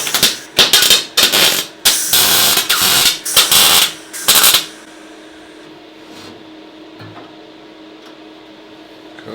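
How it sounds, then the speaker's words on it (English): A welding set tacks a body panel on a BMW E30 325i under restoration: loud, close crackling bursts in short runs for several seconds, then it cuts off to a low, steady background hum. "Fire out the welding set"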